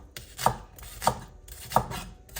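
A knife chops through red onion for chicken salad on a cutting board, four evenly spaced, close, crisp thuds with no voices.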